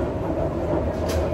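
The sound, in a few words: train moving, heard from inside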